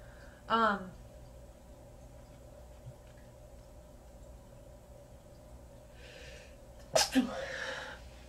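Two sudden, loud sneezes, one early and one near the end, close to the listener, with quiet room sound between them.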